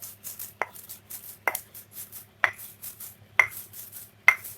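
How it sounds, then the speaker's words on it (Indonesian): Spices being ground by hand for Padang-style kalio, giving five sharp, fairly loud pounding or crushing strikes at irregular intervals over a low steady kitchen hum, with no talking. "Nah, kita haluskan lagi sedikit lagi ya."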